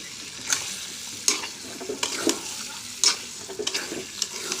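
Chicken legs, heads and liver being stir-fried with spices in a pan, a steady close sizzle broken by several sharp scraping stirs, with no talking.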